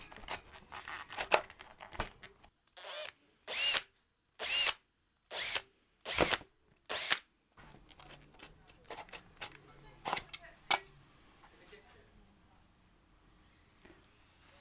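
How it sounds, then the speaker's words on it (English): A power drill bores a hole through an Akrapovic dB killer exhaust baffle from a KTM Duke, sounding in six sharp, evenly spaced bursts up close, with quieter handling and scraping before and after. "So let's be very careful where we drill the hole."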